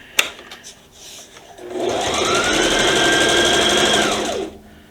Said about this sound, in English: I'll go ahead and stitch and back stitch just to make sure that doesn't come loose with the wear and tear.